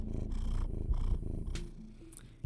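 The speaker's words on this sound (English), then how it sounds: "cat ASMR happening" A cat purring in the video game Scarlet Hollow, a steady low rumbling drone running for about two seconds before fading, with a few soft clicks scattered over it.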